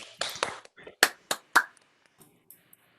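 Online audience members, unmuted on a video call for a storytelling showcase, clap in a few sharp, separate bursts that thin out into scattered faint taps, with a voice heard briefly at the start.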